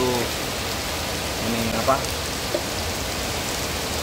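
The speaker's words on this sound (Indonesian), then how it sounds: "sambil menikmati rintiknya hujan" Light rain falls steadily in a broad, even patter, close and continuous, while a voice speaks briefly and quietly over it.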